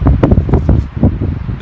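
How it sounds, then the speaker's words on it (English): Loud wind batters the microphone in uneven low rumbling gusts, close and continuous throughout, with no talking. "It wasn't that windy when we left, but it is now"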